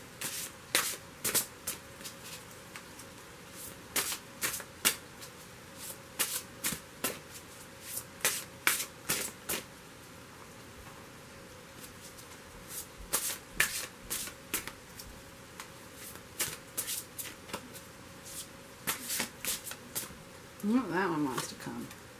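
Tarot oracle cards shuffled by hand in repeated quick riffling bursts, close and crisp, with short pauses between bursts.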